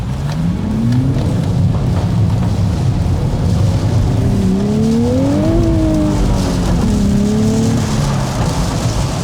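A 2023 Honda Civic Type R or Nissan 400Z launches hard on a wet road, the engine revving up through rising gear pulls, loud and close over a steady hiss of tyre spray.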